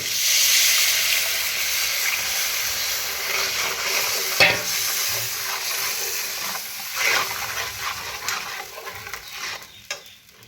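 Spices and mustard paste frying and being stirred in a pan while cooking a Bengali mustard fish curry: a steady close sizzle with scraping stir strokes and a few louder clinks, no talking.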